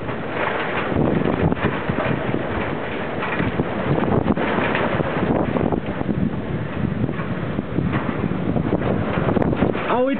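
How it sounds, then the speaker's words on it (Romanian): Loud, unbroken roar of strong storm wind battering the microphone as storm clouds roll in, with a faint voice barely audible beneath the gusts. "Uitați tăria vântului."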